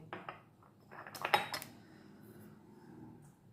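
A metal spoon clinks against a cooking pot as cumin powder goes in for sambar rice: a brief cluster of light metallic taps and scrapes, fairly quiet, with near silence before and after.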